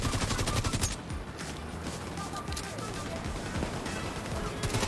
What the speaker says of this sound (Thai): ตอนนี้ยิงสักนิดหนึ่งครับ